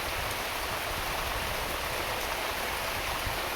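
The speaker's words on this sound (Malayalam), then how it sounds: "നല്ല കാറ്റും മഴയും" Steady rain falls in a windy downpour, a dense continuous hiss without pauses. It sounds close and even from start to finish, with no voices.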